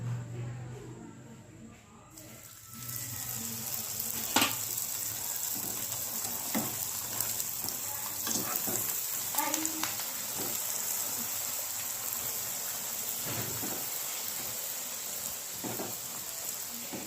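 Puris deep frying in hot oil give a constant loud sizzle and crackle, starting abruptly as the dough goes in, with occasional pops and clinks, close up, no talk.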